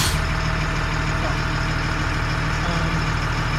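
LMTV military truck engine idling in second gear, a steady loud diesel rumble with constant hum and no pauses throughout.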